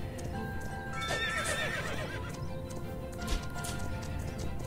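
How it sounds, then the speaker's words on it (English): A horse in a video game neighs and whinnies loudly in a long, wavering call, with hoof clip-clops and a short knock partway through. "So let's tame a horse."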